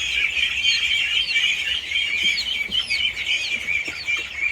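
A small bantam chicken chick peeping continuously, a dense overlapping stream of high chirps close by, with other chicks joining in and no speech.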